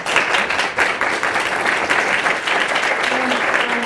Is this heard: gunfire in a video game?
no